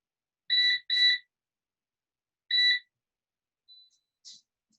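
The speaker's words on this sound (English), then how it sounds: "And timer to stop." A kitchen timer sounds while chicken and vegetables cook, giving two quick electronic beeps, a pause, then a third beep, followed by a couple of fainter chirps. It rings alone in an otherwise quiet room.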